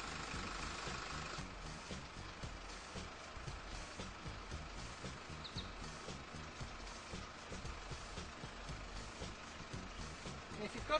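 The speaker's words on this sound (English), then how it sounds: "your engine's running, we'll have to leave it" Low, steady rumble of a vehicle engine idling while the vehicle sits stuck in sand, a continuous faint drone with some intermittent clatter over it.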